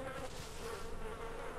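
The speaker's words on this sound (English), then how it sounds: "I hear wasps, or..." Wasps buzzing steadily in the DayZ video game, a continuous droning hum that stays fairly faint and even throughout, with no talk over it.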